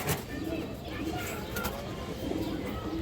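Pigeons at a pigeon seller's, soft low cooing repeating through the moment with someone talking over it nearby.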